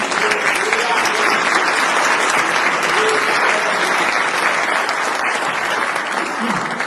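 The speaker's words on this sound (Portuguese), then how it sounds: "Então aplauda o nome do Senhor." Church congregation applauding during a Sunday worship service, a steady, dense wash of clapping hands from a large crowd that fills the room continuously from start to finish with no talk over it.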